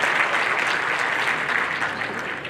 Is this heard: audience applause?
yes